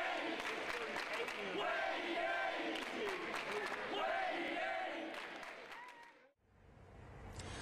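A crowd of students chants and cheers loudly in a dense, rhythmic roar that holds steady, then cuts off abruptly into a quieter stretch near the end.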